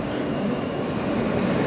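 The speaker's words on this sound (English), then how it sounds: "This is the Jamaica Center bound express train." An R160A New York City subway train on the E line toward Jamaica Center rumbles loudly and steadily from onboard, a continuous broadband roar of the moving car with no voices.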